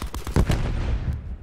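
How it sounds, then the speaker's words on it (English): A quick burst of close automatic gunfire in Black Ops 4 Blackout, several sharp shots in rapid succession that ring out and then fade. "There's still somebody shooting at me from somewhere."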